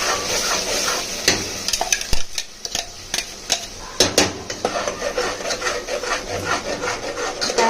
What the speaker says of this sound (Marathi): हे आपण मिक्सरला वाटण करून घेतलेलं सर्व आपण त्याच्यामध्ये टाकू आणि मस्त असं फ्राय करून घेऊ